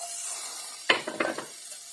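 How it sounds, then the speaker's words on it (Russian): A sudden hiss as garlic hits hot vegetable oil, settling into a soft crackling sizzle in a frying pan. "В сковородку наливаем немножко растительного масла и выкладываем чеснок."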